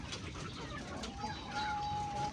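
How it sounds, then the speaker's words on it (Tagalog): Grown chicks of white Leghorn, Rhode Island Red and Barred Rock breeds feed on mash and pulp, giving soft overlapping clucks and chirps close by over a faint, busy farmyard background. "ito meron tayong mga sisiw dito, mga malalaki na sila"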